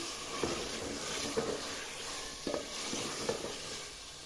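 Beef and potatoes being stirred in a pot with spices, with a few soft scrapes and brief sizzles at irregular intervals over a steady hiss of frying.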